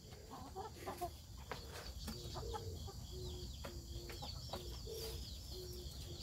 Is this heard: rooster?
yes